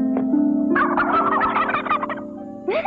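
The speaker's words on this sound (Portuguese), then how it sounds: "Elas não falam, elas falam glu, glu, glu, glu, glu." Turkeys gobble loudly and close by in a farmyard, a long rattling burst of fast warbling calls over a steady low drone, then a short rising call at the end.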